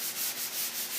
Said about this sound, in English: you start scrubbing with that Barkeeper's Friend